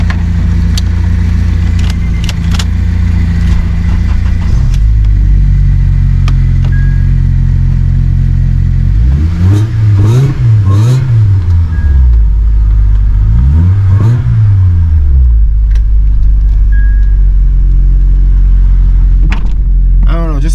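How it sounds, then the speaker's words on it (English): A supercharged Acura at a car meet idles with a deep, heavy rumble and gives two strong throttle blips, the second shorter, close by under a constant loud drone. "The sound of the supercharger on this car just sounds so cool to me."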